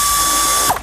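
A torque wrench ratchets with a quick fine clicking burst while tightening 10 mm gasket bolts, close and loud, ending in a sharp click.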